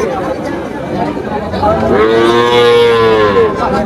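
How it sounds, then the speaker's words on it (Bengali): Cattle at the historic Tepakhola cow market in Faridpur, with a single loud, drawn-out moo rising near the mic over a steady background of crowd chatter. "এই হলো গাভী গরুর হাট।"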